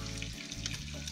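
An omelette frying in a pan on a budget kitchen stove, giving a steady, close sizzle with soft crackles throughout and no voices.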